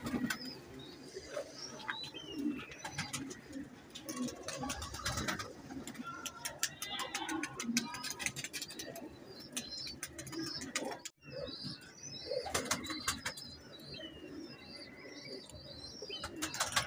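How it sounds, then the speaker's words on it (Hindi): Pigeons coo softly and repeatedly nearby, with scattered chirps and faint rustling, and some low background murmur. "ये चौधरी साहब के 10 नंबर कबूतर हैं।"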